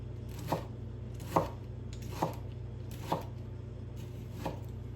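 A knife slices through a tomato onto a cutting board, five evenly spaced crisp thuds, close and fairly quiet.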